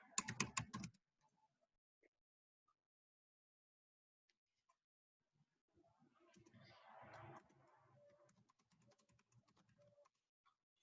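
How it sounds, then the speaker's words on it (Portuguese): Keys clacking in a fast burst at the start of an online review session, followed by quieter scattered taps and a stretch of soft, brief talk in a quiet room. "Que aqui dá para ir digitando algumas coisas"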